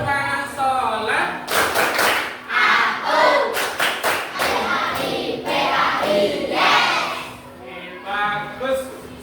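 A group of children claps in unison as a prayer-clapping routine, producing rhythmic bursts of hand claps mixed with loud chanting voices in a room.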